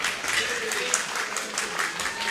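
A wrestling crowd at a live match cheers and claps steadily, a dense roar of applause with scattered shouts, while a commentator talks over it.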